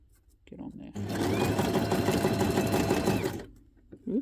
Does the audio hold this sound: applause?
no